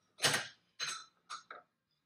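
Wrench tightening an 18 mm nut while installing a Teraflex 2.5-inch lift on a Jeep JK: four close, quiet ratcheting clicks with short pauses between them.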